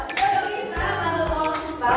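A group clapping hands in rhythm during a movement activity for teachers, a few crisp claps heard briefly amid room noise and voices.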